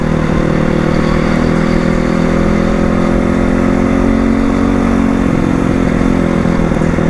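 A 2020 Crossfire motorcycle engine runs loud and close, a steady mid-pitched drone with slight rises in revs and a faint mechanical clatter throughout.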